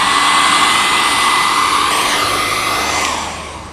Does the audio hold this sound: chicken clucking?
no